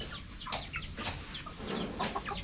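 Chickens in a mini farm coop cluck in short bursts, several quick calls close by over a low background hum.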